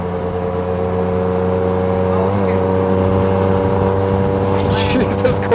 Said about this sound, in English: This dude souped up the tuk-tuk, man.